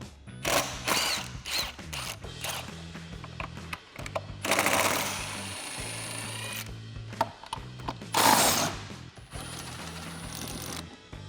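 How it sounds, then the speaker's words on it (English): A ratchet with a 7/8 inch socket and lug nut key loosens the spare tire lug nuts on a Jeep Wrangler JL, giving repeated bursts of clicking ratchet strokes separated by short pauses and metallic handling noises. "I'm using our lug nut key as well as a 7/8 inch socket, and I'm going to remove our lug nuts on our JL"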